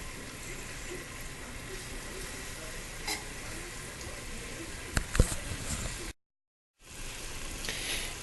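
Butter sizzles steadily in a pan over garlic and clams for a saffron risotto. The frying hiss is soft and continuous, with a few louder pops and stirring clatters near the end and a brief gap of silence.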